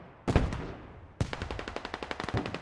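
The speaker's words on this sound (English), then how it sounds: "And LAV just unleashes again." Heavy automatic cannon fire from an LAV armored vehicle in the Squad military shooter game: a single blast, then a long rapid burst of evenly spaced loud shots, with other gunfire around it.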